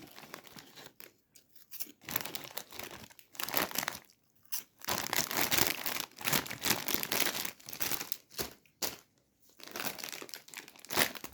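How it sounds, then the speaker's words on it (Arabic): A crinkly snack bag is torn open and handled, loud close crackling and crumpling of plastic in bursts with short pauses between. "نفتح الكيس ده."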